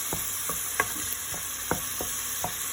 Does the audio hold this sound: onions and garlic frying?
yes